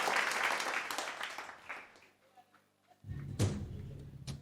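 Applause from the audience at the Uwezo Fashion grand final for a contestant ranked tenth, loud broadband clapping that fades out over about two seconds, then near silence before another burst of sound with some knocks.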